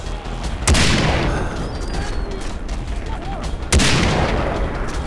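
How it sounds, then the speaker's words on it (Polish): Enemy gunfire in the shooter game Far Cry 3, heard as two sharp, loud shots about three seconds apart over a dense, continuous rumble of battle noise, with no clear speech. "Jestem tak daleko, oni strzelają we mnie, a nie w tamtych."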